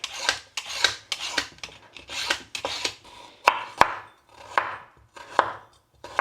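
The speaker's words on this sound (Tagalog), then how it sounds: "Bali, babalatan at hihiwa-hiwain ko lang itong carrots and patatas." Carrots are peeled and sliced by hand in a home kitchen for a Filipino stew. Quick scraping strokes come in a brisk uneven rhythm, broken by a few crisp knife chops on a board. The sound is close and moderately quiet, with no talking.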